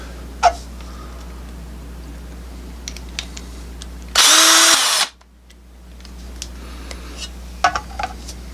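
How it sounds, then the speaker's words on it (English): A single short burst of a power drill fitted with a mixer attachment whirring at high speed in liquid, about a second long, between quieter room noise and faint clicks. "I made a little mixer and I put it in my drill."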